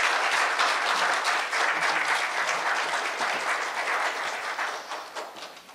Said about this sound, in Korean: 다시 한번 김원규 교수님께 감사의 큰 박수 부탁드립니다